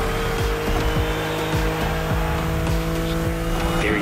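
BMW M4 Liberty Walk Edition racing in The Crew Motorfest, its engine droning steadily with repeated rev climbs and gear shifts, close and loud throughout, with a hint of tire squeal.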